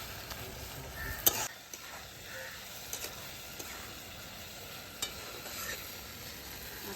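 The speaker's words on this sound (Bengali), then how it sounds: "মশলাটা ভালো করে একটু কষা হোক।" Spice paste stir-fried in a pan for a village-style Bengali catfish curry, with a soft, low sizzle and a few scraping stirs and clinks, quiet and close with no talking.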